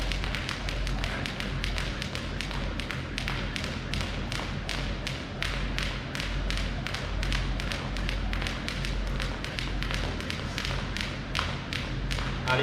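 A jump rope slaps the floor in a fast, even rhythm during a fitness warm-up, each skip a crisp close tap over a steady low thud, continuing without a break.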